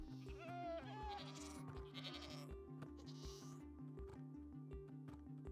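Goats bleat repeatedly in Minecraft, a few high wavering calls standing out over steady, loud looping game music that runs throughout.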